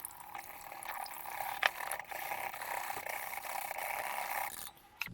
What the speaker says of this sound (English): we're just going to whisk that together